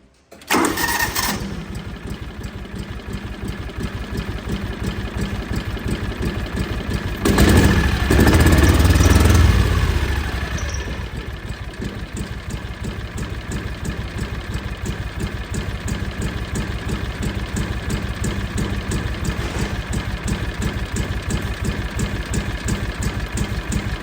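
A John Deere Gator 6x4 utility vehicle engine cranks and catches, then runs roughly on one cylinder in a steady loud putter, briefly surging louder partway through before settling back to an uneven mechanical idle, close up.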